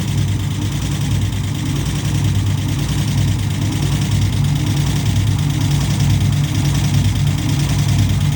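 A car engine idles after a head gasket replacement, a loud, steady low rumble with a continuous vibrating drone that holds even and close throughout, with no talking.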